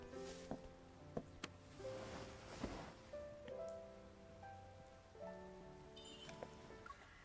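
Steady rain falls throughout a video game scene, a soft continuous patter under gentle melodic game music with occasional brief chimes, no talking.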